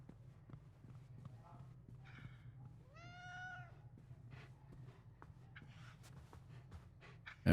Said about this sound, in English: And of course, the cat's just yelling at us all this time.